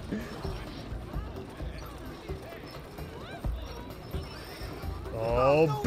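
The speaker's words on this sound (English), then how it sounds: "Look at me riding my horse extra hard." A horse gallops and neighs in the video game It Takes Two, a rhythmic clip-clop running under lively talk and building to a loud whinny at the end.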